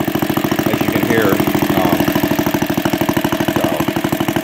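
A small engine on an Eclipse Racket reel lawn mower idles steadily close by, with an even rapid putter and a loud mechanical chug throughout.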